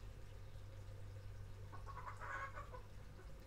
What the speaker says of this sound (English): sounds like dogs going after the chickens.